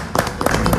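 Group clapping honors Emigdio's birthday with a short, moderately loud burst of irregular handclaps.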